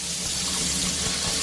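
Cold tap water runs steadily into a kitchen sink over raw prawns being rinsed, a constant close hiss and splash with no talking.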